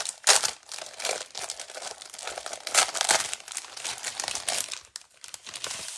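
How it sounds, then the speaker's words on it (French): Sheets of paper for a Dutch-fold card are handled close up, crinkling and rustling in irregular bursts of crisp, papery noise with brief quieter pauses. "je vous fais voir quelques feuilles du papier"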